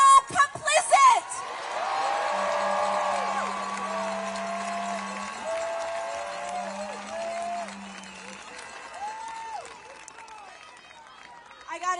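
A large protest crowd in Washington DC cheers and whoops, a broad sustained roar with scattered shouts and clapping that swells early and slowly fades, with a low steady tone running beneath it.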